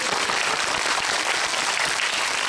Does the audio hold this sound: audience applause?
yes